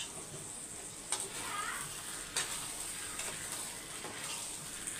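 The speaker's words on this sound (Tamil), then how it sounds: "இப்போ இதை நல்லா மிக்ஸ் பண்ணிக்கலாம்." Chicken sizzles steadily in a pan while a spoon stirs it, with a few light scraping knocks against the metal over a constant frying hiss.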